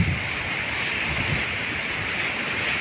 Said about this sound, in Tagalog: Lagi na hampas talaga siya oh.